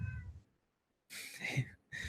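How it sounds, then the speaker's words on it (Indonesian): A cat meows twice, close and clear, with a short silent gap between the two calls, heard during a relaxed conversation about design sprints. "Sama ada kucing."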